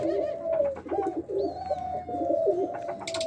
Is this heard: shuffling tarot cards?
no